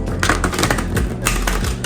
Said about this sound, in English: Some people say don't shuffle it like a regular deck of cards, which is like this.